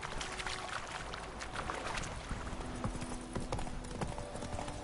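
Roach the horse galloping in The Witcher video game, rapid rhythmic hoofbeats pounding steadily and close throughout, with faint ambient game background beneath.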